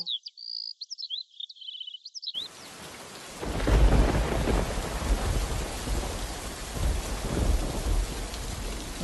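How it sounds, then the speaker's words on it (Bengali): Heavy rain pours down outside with rolling thunder, a loud dense roar of rain and deep rumbles building after a quiet start with brief chirping tones. "বাইরে অনেক বৃষ্টি হচ্ছে"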